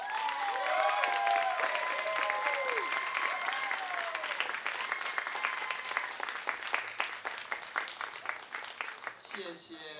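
A concert audience at a choir performance claps steadily and loudly throughout, with a voice talking over the applause early on.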